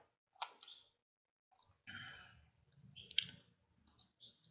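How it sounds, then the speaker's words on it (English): Computer mouse clicks come in several short, quiet bursts separated by pauses, close and isolated, with no voices. "left click, right click"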